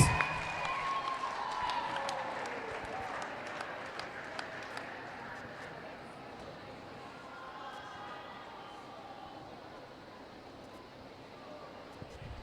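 At a junior nationals finals on court 3, the crowd claps for the 2019 12-and-under girls champions. The faint, distant applause is busiest at the start and fades away, with voices murmuring beneath.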